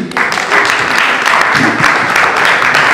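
A church congregation breaks into loud, sustained applause for the Lord, dense clapping filling the room steadily from start to finish with no talking over it.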